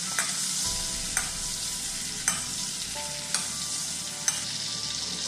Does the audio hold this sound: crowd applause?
no